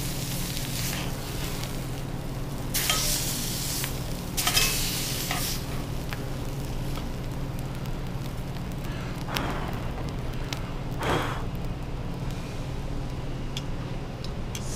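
Canola oil sizzles in an extremely hot pan, with a steady crackling hiss and several louder bursts of spray rising over it.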